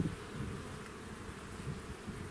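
Honeybees buzz steadily as they are moved from one hive into another, a dense, continuous hum of many insects at close range with no talking.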